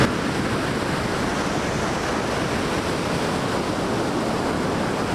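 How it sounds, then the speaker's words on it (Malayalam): Powerful sea waves pound Chethy Beach in a continuous loud roar of surf that never lets up, close and dense with no voices. "ഇപ്പോൾ നല്ല പവർഫുള്ളായിട്ടാണ് തിരമാലയൊക്കെ വരുന്നത്"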